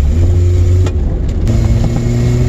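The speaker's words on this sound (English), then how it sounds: "It's full throttle right here." A car engine roars loudly and steadily at full throttle from inside the vehicle, its deep droning tone holding nearly constant for the whole stretch with only a brief dip midway.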